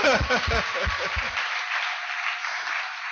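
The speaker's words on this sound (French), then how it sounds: "Applaudissons pour le Seigneur." Applause from a church congregation fills the space with steady, close clapping that continues to the end, while a voice speaks over the first second or so.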